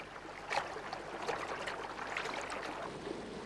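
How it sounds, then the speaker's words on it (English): River water trickles and splashes steadily as red-winged starlings bathe in the shallows, with soft broadband wash and a few brighter splashy bursts, close and moderately quiet, with no voices. "Red-winged starlings bathe in the river."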